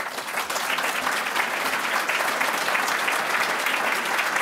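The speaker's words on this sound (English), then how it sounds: "let's give them a round of applause." Dense, sustained applause from a lecture audience, many hands clapping steadily for several seconds, loud and close, without speech.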